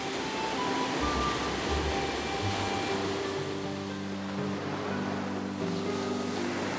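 Steady ocean surf washes continuously, with a low engine hum running beneath the waves.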